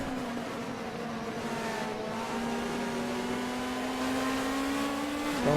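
GT3 race cars circling Mugello in a sim racing game, a steady droning engine note with rising and falling pitch held close and loud throughout, holding one sustained tone before a brief shift near the end, with no talk over it.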